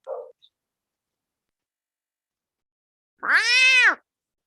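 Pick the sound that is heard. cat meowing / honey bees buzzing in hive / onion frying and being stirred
cat meowing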